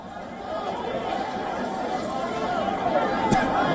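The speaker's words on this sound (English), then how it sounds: "a large crowd gathered on a covered street and can be heard chanting slogans" A large crowd of protesters in a covered street at Tehran's Grand Bazaar: a loud, steady mass of crowd voices that blurs into a continuous roar, with no distinct chanted rhythm standing out.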